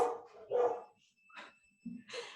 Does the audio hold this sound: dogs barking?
yes